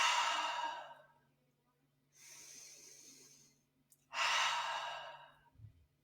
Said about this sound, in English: you should always exhale out of your mouth like this